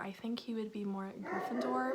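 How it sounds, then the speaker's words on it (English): A pet dog indoors barks and whimpers in short yelps and whines, loud and close, mixed in with a person talking over it. "I'm so sorry about my dog."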